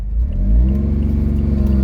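Engine of a LibertyWalk widebody Honda S660 sports car revving up and then holding a steady drone, loud and close, with no talking over it.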